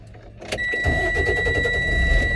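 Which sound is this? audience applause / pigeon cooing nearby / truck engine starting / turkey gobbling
truck engine starting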